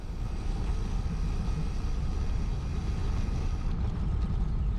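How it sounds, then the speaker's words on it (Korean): Strong wind buffeting a GoPro on a bicycle ride over a small hill, a steady loud low roar filling the whole stretch with no break. "바람 너무 많이 분다"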